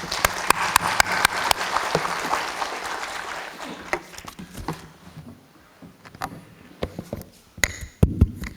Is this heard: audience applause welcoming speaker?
yes